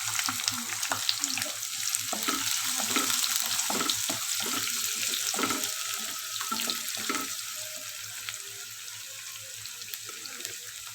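Finely chopped onions with green chillies and curry leaves sizzle steadily in a pan for egg gravy, a continuous close frying hiss broken by frequent scrapes and stirring clatter, with no voices.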